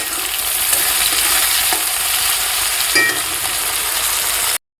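Chopped onions and tomatoes fry with salt in a pan for a chicken and potato curry, giving a loud, steady close sizzle with occasional stirring scrapes and no voices.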